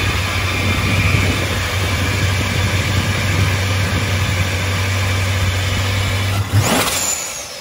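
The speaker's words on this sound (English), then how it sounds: "This is a customer's first start with the new Vortech Supercharged Hemi." A Vortech supercharged Hemi V8 fires up for its first start, then settles into a steady, loud idle close to the mic, with a brief rev near the end and no voices.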